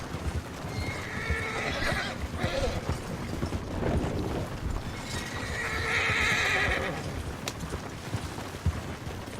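A horse in the video game Red Dead Redemption 2 Online whinnies loudly twice, separated by a pause, while hooves clop steadily in the background.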